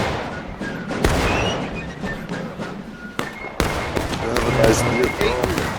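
Musket volleys crack and boom across a War of Rights pub match battlefield, irregular shots near and far over a continuous roar of gunfire, with voices talking underneath.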